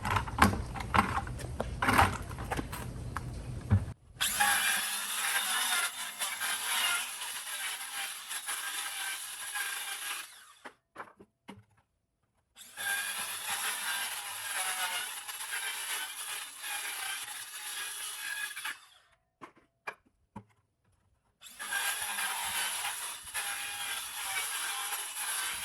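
Power tool cutting low-voltage pond lighting parts in three sustained bursts of broadband buzzing, separated by short pauses, fairly close and with no talk.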